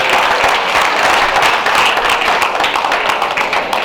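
A church gala night audience applauds loudly and continuously, with many hands clapping in a dense, steady wash of sound close by.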